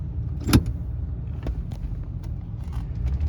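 A 1973 Mercury Marquis Brougham coupe with a 460 V8 pulls away, its low engine rumble steady and close throughout, with a brief sharper clunk near the start and light mechanical clicks over the drone.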